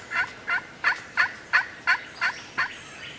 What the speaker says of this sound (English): We knew he was in there on the ridge gobbling.